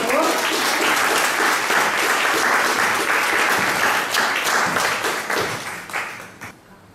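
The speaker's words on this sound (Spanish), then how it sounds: "un aplauso para ella, por favor" At a Women's Day poetry recital, an audience gives a poet loud, close applause that holds strong for several seconds and then thins out and fades away.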